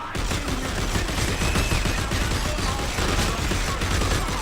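Gunfire in the video game Dead Space 3, a dense, continuous barrage of loud shots running steadily throughout, with no spoken words over it.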